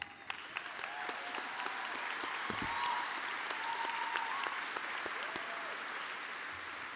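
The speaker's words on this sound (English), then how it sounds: "to give you a round of applause" Applause from parents and students at a 2021 school graduation, honoring teachers: a dense, sustained wash of clapping from a large audience, steady throughout with a few sharper individual claps standing out.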